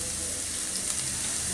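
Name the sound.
minced garlic frying in hot oil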